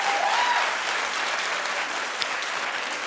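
A television talk-show studio audience claps in a steady, dense burst of applause that holds evenly throughout, with a faint voice briefly audible near the start.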